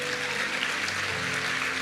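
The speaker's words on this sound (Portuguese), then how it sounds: "Pode aplaudir o Senhor." A church congregation breaks into brief, dense applause during a worship service, a short burst of many hands clapping at moderate volume.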